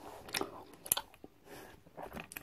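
Close, crunchy chewing and biting of American candy, a Laffy Taffy, with a few distinct bite snaps and the soft mashing of taffy in between, heard alone without talk.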